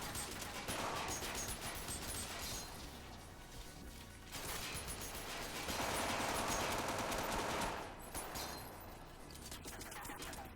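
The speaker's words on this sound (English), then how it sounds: "Is someone shooting behind me, or is that her?" Dense, continuous gunfire from an Xbox 360 shooter, rattling bursts layered behind the player with no break across the whole stretch, loud and busy throughout.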